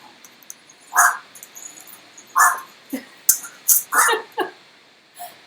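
A corgi barks repeatedly at a distance, short sharp yaps spaced irregularly over a steady background hiss.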